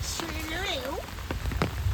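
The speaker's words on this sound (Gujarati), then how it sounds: "આ અમારે ત્યાંનો પહેલો વરસાદનો સિઝનનો" Steady rain patters on a surface, with a voice briefly heard over the downpour.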